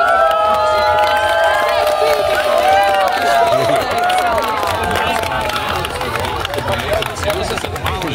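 Spectators at the Red Bull Soapbox race in Talsi 2024 shout and cheer loudly, a dense crowd roar with raised voices and whoops that sustains and then slightly thins out.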